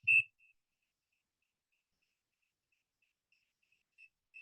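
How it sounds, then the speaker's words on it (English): A snowy tree cricket chirps after dark in a backyard: a steady, faint, evenly spaced trill of high pulses, with a brief louder click at the start and no talk. "Snowy tree cricket."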